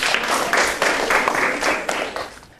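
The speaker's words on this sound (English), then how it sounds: "Can everyone give them a big clap?" A group of people clapping together in steady applause for about two and a half seconds, loud and close throughout, gradually tapering off at the end.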